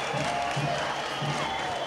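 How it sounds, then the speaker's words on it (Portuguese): A stadium crowd applauds and cheers at a football match between Inter and Porto, a steady, dense roar of clapping that holds at a moderate level through the clip, with a faint low voice underneath. "Aplaudido né? como sempre, né? Olha aí a torcida."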